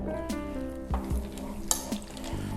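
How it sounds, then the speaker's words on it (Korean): A spoon stirs broth with olive oil in a hot pan, scraping in a few distinct strokes over a soft sizzle, close and clear with no talking. "다시 한번 불을 켜고 다시 한번 섞어주세요"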